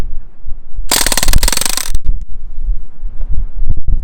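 A Crosman DPMS SBR BB gun fires a single fast full-auto burst of about one second, a dense loud rattle of shots, then it stops and only faint clicks and handling noises follow.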